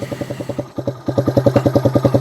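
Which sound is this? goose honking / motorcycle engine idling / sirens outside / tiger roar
motorcycle engine idling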